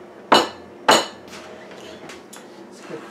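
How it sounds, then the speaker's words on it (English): Two sharp clinks of cutlery striking a plate, then lighter taps and scrapes, as pre-cooked tilapia is cut into small pieces; the sounds are close and quiet between hits. "start cutting it into small pieces while that rice continues to cook"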